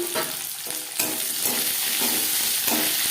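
Onion sizzles in hot refined oil with bay leaf and five-spice tempering, a loud continuous crackle with occasional stirring scrapes, close and alone.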